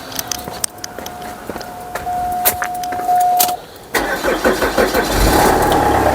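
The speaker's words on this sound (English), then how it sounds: "Let's go and start the car up and see if there's any leaks." A Vauxhall Zafira engine cranks and catches partway through, a steady whine giving way to a burst of starter noise, then settles into a loud, even running rumble up close, with no voices.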